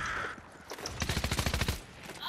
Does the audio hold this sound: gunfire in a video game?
yes